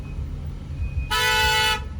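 A car horn blares in one sustained honk of about two-thirds of a second amid steady traffic rumble on a busy city street in Enugu, Nigeria.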